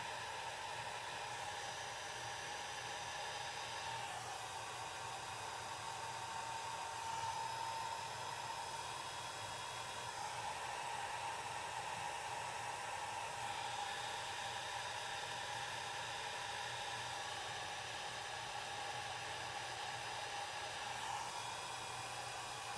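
Blow dryer used on alcohol ink, a continuous even airy roar running steadily throughout at close range with no pauses.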